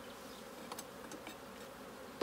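Honey bees hum steadily in a cell builder colony in an apiary, a dense, continuous buzz of many insects close by with brief brighter flickers of movement and no talking.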